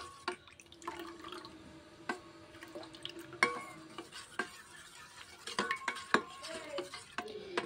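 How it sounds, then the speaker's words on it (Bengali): A spoon stirs a thin batter of cornflour mixed with water in a bowl, with swirling liquid sloshes and frequent sharp clinks of metal against the container rim. "কর্নফ্লাওয়ারটা আমি জল দিয়ে পাতলা করে ব্যাটারটা গুলিয়ে নিলাম"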